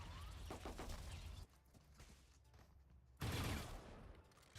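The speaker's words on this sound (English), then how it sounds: "Shots sound nice though." Gunfire in the tactical shooter game Valorant from a clunky, heavy gun: bursts of rapid shots at the start, a quieter gap, then a loud, dense volley near the end.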